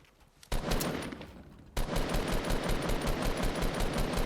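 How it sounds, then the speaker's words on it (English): Rapid automatic gunfire in the Fortnite video game, Jonesy Frenzy mode, fired at an opponent's builds, loud sustained bursts that cut in, pause briefly, then resume in a steady rattling stream. "shooting the builds as they ran to me"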